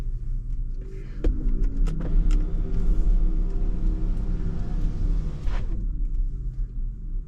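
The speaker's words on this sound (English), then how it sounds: "There's the electric noise. It's actually pretty neat." Steady low electric motor hum and rumble from a 2024 Porsche Macan 4 EV while driving, a continuous droning tone with a brief swell near the end, no talking.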